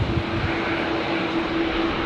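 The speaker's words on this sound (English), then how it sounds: "So Virgin 1210 here off to Canberra." A Virgin airliner taking off for Canberra from Brisbane Airport, a continuous loud engine roar with a steady droning tone, close and unbroken over the short stretch.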